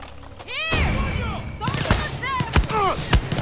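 Gunfire from the Far Cry 6 video game, sharp bursts and single shots cracking in quick succession over a busy backdrop of game effects and music-like tones, with a voice talking amid the shooting.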